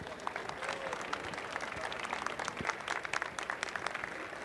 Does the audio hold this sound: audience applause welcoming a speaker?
yes